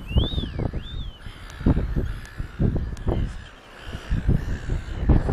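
Birds call out over a rough, rustling outdoor background on Phillip Island near penguin nests, including a couple of rising-and-falling whistled calls early on and scattered harsh caws.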